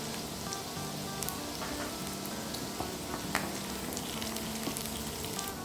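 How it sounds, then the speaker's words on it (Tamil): Onions sauté in a pan for a Chettinad-style vegetable dish, a soft, even sizzle that runs steadily throughout with occasional faint crackles and light stirring clicks. "இதில் நான் வச்சுருக்க வெங்காயத்தை சேர்த்து நல்லா வதக்கிக்கோங்க"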